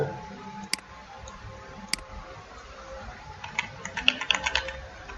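Computer keyboard typing while making an ID card in Word 2010: a couple of isolated key taps early, then a quick burst of clicking near the end, faint and close over low background hiss.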